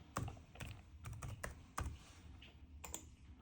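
Keys on a computer keyboard tapped in short irregular bursts while a password is entered, close and moderately loud with brief pauses between clusters of clicks.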